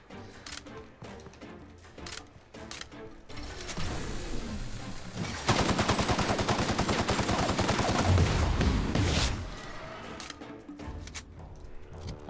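Sustained gunfire during a firefight in The Outer Worlds video game, a dense rapid stream of loud shots that builds midway and keeps up for several seconds before easing off into scattered background noise.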